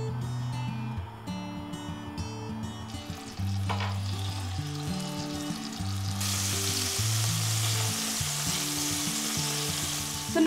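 Mustard-marinated kebabs on satay sticks sizzle and fry over a gas flame, a steady crackling hiss that grows brighter and busier partway through, with background music playing throughout.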